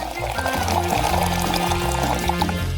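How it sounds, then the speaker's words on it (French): Water poured into a Coca-Cola bottle during a TikTok hack test, a steady continuous gurgling fill with rising tones, close and fairly loud, with no talk over it. "Maintenant, on va verser de l'eau."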